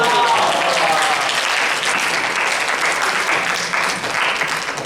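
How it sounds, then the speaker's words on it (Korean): A church young adults' Bible study workshop audience in Auckland claps together, a dense, even burst of applause that holds steady for several seconds and fades slightly at the end. "박수 한번 주셔도 돼요."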